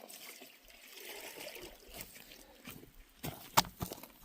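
Water trickles and splashes as it is poured from a gold panning station at a creek, faint, intermittent dribbles with a brief sharper splash near the end.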